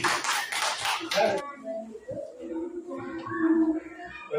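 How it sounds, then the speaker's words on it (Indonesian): Classroom of children clapping in a burst of applause for about a second and a half, loud and close, then fading into murmuring voices and a teacher talking. "tepuk tangan"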